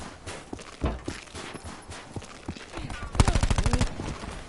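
Gunfire from a World War II shooter video game: scattered single shots give way to a loud, rapid burst of automatic fire near the end, with footsteps and game noise in between.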